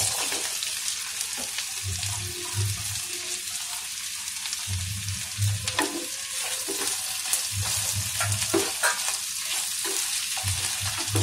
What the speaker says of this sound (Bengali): এরপরে দিয়ে দিচ্ছি পেঁয়াজ।